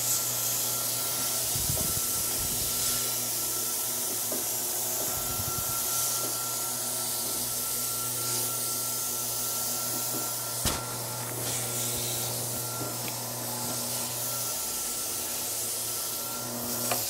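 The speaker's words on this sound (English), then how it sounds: "You can really make quick work of sanding these if you use this technique." Hand sanding of wood with 150-grit sandpaper in a workshop makes a steady, close scratchy rubbing that runs throughout with only small pauses, alone without talk.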